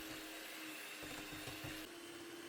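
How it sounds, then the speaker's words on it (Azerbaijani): An electric mixer whisks eggs with a pinch of salt for sponge cake batter, giving a steady whirring drone that shifts pitch slightly as the beaters move, close and alone. "Biskvit üçün yumurtaların üzərinə bir çimdik duz əlavə edib mikserlə həcmi artana qədər"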